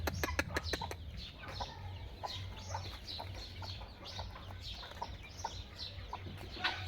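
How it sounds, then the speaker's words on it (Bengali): A China titir hen clucks softly in repeated short notes at a moderate distance, after a quick burst of sharp clicks at the start, over a low steady background hum. "যারা তিতর মুরগি পালতে ইচ্ছুক পালতে পারেন। অনেক সুন্দর কিউট জাতের একটা মুরগি।"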